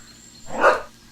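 A single dog bark from the Helltown horror video game, one short, fairly loud burst at mid-clip with no talk.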